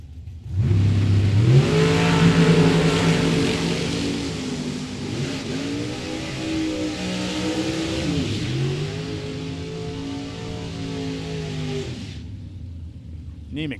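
A pair of drag racing cars, one a 2000 Corvette, roar off the line at a strip with loud engine noise that rises in pitch through several shifts, holds strong for about twelve seconds, then drops away.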